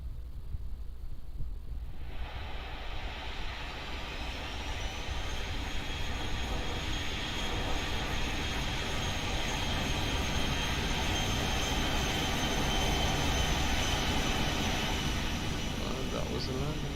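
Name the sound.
Boeing 737-800 landing in X-Plane 11 video game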